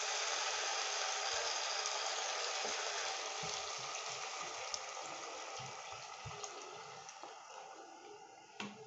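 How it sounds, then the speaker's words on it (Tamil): Water hisses and bubbles into frying chicken in hot oil in a pan for a coconut-free chicken gravy, a broad steady sizzle that slowly softens over several seconds, with faint clinks underneath. "நம்ம இதில் கொஞ்சமாக தண்ணி விட்டுருவோம்."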